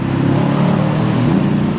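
A Mercedes-AMG C63 S Coupé V8 biturbo engine hums steadily from inside the cabin while driving with the windows open, a continuous low drone at moderate loudness with no voices.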